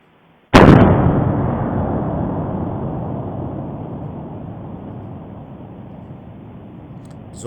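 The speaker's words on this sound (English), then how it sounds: "And then listen to this eruption." A sudden violent blast from the Popocatépetl volcano eruption hits at once, then rolls into a long, heavy roaring rumble that slowly fades over several seconds, with no talk.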